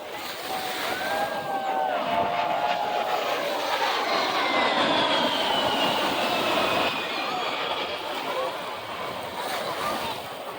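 An A-10 attack jet roars overhead with a sweeping whine, loud and sustained, its pitch slowly falling as it passes.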